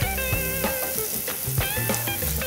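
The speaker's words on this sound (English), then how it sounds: "Now all you have to do is cook the mushrooms until the wine is all gone, disappeared" Mushrooms with garlic, thyme and a splash of wine sizzle and bubble steadily in a hot pan, a close, continuous frying hiss with small pops and no talking.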